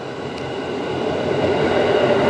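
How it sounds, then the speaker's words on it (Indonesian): A train rumbles steadily past a platform at Manggarai station in Jakarta, a continuous close roar of rolling wheels and carriages growing slightly louder, with no talking. "Dan ini merupakan peron untuk arah ke Depok dan Bogor"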